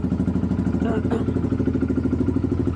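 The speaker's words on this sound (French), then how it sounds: "le quad il a démarré, donc il n'y a pas de souci" Kymco 250 KXR quad idling after starting with a newly replaced stator, a steady close thrumming pulse with a rhythmic beat and a brief clatter midway.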